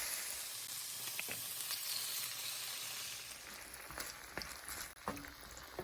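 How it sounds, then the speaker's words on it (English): Thin-sliced Korean BBQ steak simmering on low heat in a pan, a soft continuous sizzle that eases down partway through, with a few faint clinks and taps near the end. "I'm just gonna turn this down, simmer it, put it on low"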